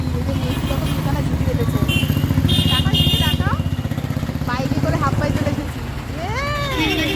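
A motorcycle on a ride carries riders along, its engine drone running steadily underneath while people talk loudly over it almost throughout.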